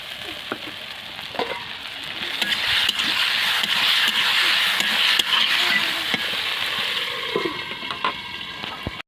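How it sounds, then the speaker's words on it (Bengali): Fish head and spinach fry in a pan, giving a moderate hiss that rises and holds steady, with occasional scraping of a utensil stirring the pan. "একটু ভাজা ভাজা হয়ে এসছে এখন আমি জিরা আর সরষা বাটাটা ঢেলে দেবো"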